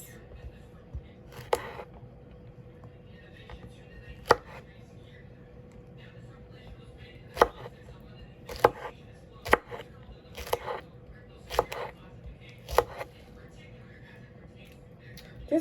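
Knife chopping fresh okra on a cutting board, scattered sharp taps at an irregular pace under quiet speech.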